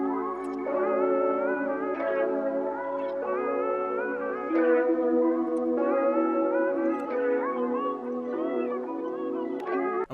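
A sustained, harmonically rich synth-like tone drenched in reverb and echo, with a muffled, filtered top end, playing continuously and fairly loud with no voices.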